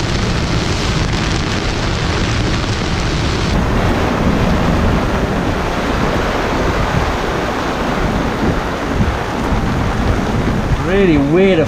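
Heavy wind-driven rain pours onto the sea around a sailing yacht during a squall off Antigua, a dense, loud, continuous hiss and roar with rumbling gusts, and a brief voice near the end.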